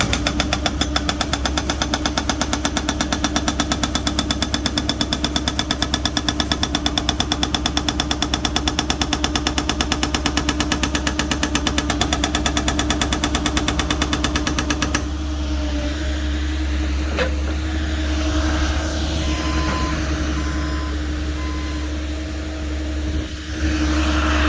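A jackhammer hammers in rapid, steady bursts, breaking frozen ground during winter sewer line repair in Berlin, New Hampshire. It is loud and close over an engine drone for about fifteen seconds, then stops, leaving the engine idling.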